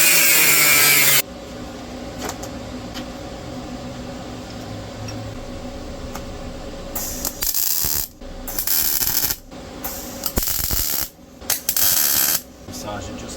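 Metal link for a 1/10 scale RC crawler frame cut to length, heard as a long steady grinding drone followed by several choppy bursts of harsh, close cutting noise.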